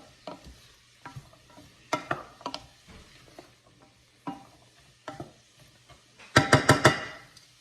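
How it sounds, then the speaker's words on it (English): Vegetables sautéed in a pot for chickpea stew, a spoon scraping and stirring in scattered close taps with light sizzling, ending in a brief flurry of louder rattling clanks. "So I'm just sauteing this around."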